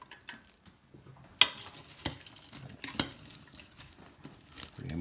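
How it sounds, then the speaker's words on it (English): Party mix being stirred in a pan for a long, slow mix, giving soft scraping and rattling with a few sharper knocks and clatters against the pan, close and fairly quiet, with no talking. "All right, pan number 2, getting the old 15-minute stir."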